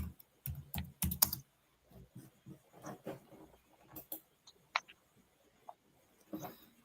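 Computer keyboard being typed on at a desk, irregular bursts of light, close keystroke clicks with short pauses between words, fairly quiet and heard alone.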